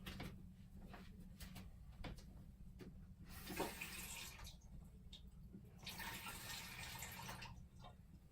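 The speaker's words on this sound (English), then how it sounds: "first you wash your asparagus" Kitchen tap running over asparagus being washed, a soft steady hiss of water with splashing swells and a few light knocks nearby, fairly quiet.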